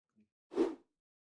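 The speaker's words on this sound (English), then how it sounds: "you zip it up" A Mr Tuba BBb tuba gig bag being zipped shut: a faint tick, then one quick soft zip stroke of under half a second in a quiet room.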